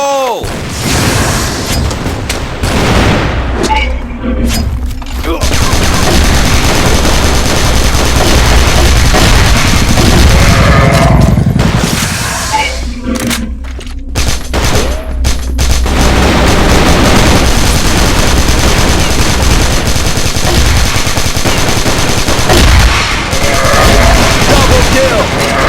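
Sustained bursts of KAC ChainSAW machine gun fire in the shooter game Crossfire fill the whole stretch, loud and rapid, with explosions, mechanical clatter and game voice callouts mixed in.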